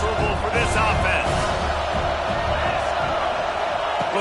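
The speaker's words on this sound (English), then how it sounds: "This crowd trying to make life miserable for this offense." A stadium crowd at a college football game roars in a steady, loud wash of noise, with commentators talking over it.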